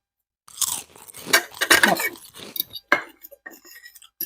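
Crunchy salad vegetables dipped in salad dressing being chewed close up, loud crisp bites and crunches in an uneven rhythm, with light clinks of cutlery and dishes between them.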